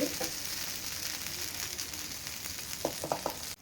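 Jowar dosa sizzling in oil on a hot pan, a steady quiet frying hiss with a few brief scraping taps near the end.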